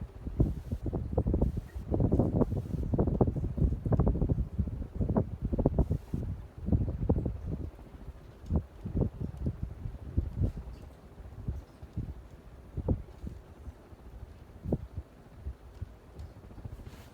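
Air pushed by a 52-inch Progress Lighting AirPro Hugger ceiling fan with cherry blades buffets a nearby microphone as a rough, low, gusty rumble. It is heavier at first and then steadier and softer, with no talking.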